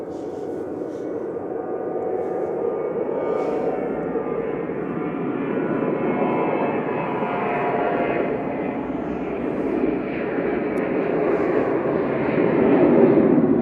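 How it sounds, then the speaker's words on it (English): TUI Boeing 737-800 jet on a cold morning at Manchester Airport, a steady broad engine roar that holds for over ten seconds and grows slightly louder toward the end, with faint talk underneath. "This is TUI to Salzburg, 737-800 GATAW"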